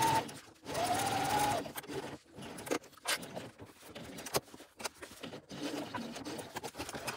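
A sewing machine runs around the edge of a quilted tote bag, a close whirring run followed by shorter stop-start bursts and handling clicks.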